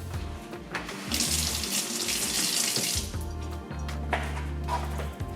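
Tap water runs steadily into a sink while a WDT coffee tool is rinsed, a close splashing stream that shifts in tone as the flow hits the tool, with no talk.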